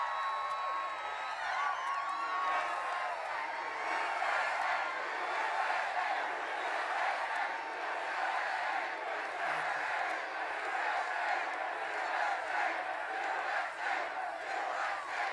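A large crowd at an outdoor Trump campaign rally in Carson City, Nevada, roars and cheers continuously, loud and sustained with shouting voices blending into a dense wall of sound.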